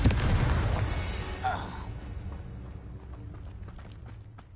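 A Confringo fire spell blasts in the Hogwarts Legacy video game, a loud booming burst at the start that decays into rumbling and crackle, with sporadic sharp impacts following.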